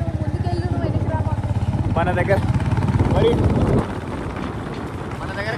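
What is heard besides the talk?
motorcycle ride through crowded Kumbh Mela streets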